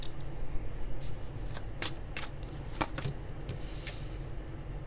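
Tarot cards being straightened and tapped into a neat spread on a table, giving soft papery flicks and light taps in an irregular run, close and quiet, with no talk.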